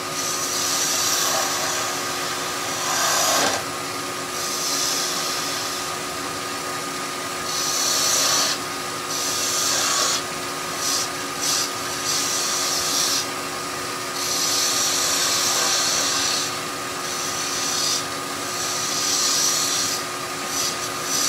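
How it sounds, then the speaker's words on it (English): Spindle gouge cutting a spinning wooden blank on a lathe while shaping a Christmas nutcracker, a steady high whirring scrape that swells and fades in repeated passes, close and continuous with no talk. "So just using the spindle gouge,"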